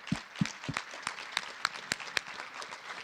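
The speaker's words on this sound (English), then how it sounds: "So round of applause." A conference audience at a Toronto symposium gives sparse applause, a handful of distinct, separate claps spaced out over a few seconds with a light scatter of clapping underneath, quiet and thin.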